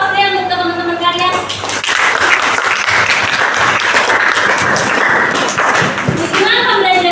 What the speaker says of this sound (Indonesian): Dikasih aplaus deh untuk teman-teman kalian.